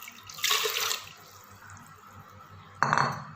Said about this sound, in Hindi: ये जग में मैं तकरीबन आधा कप जो है जो पानी डालती हूँ।